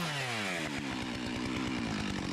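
An Echo CS-2511TES top-handle chainsaw cutting through branchy wood, revving loudly up close with a steady buzzing whine and rapid rhythmic pulses as the chain bites, with no talk.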